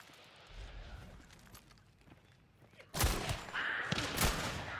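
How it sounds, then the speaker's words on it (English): Gunfire aimed at a window in a video game: a low, muffled stretch, then a sudden burst of loud, close shots with crackling impacts that keep going to the end. "I was just shooting to get that window open, but I hit one of them"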